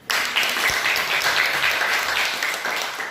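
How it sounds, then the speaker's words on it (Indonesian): An Indonesian seventh-grade classroom claps for a student group, a dense, steady patter of many hands at moderate distance lasting a few seconds with faint background voices. "beri tepuk tangan dulu"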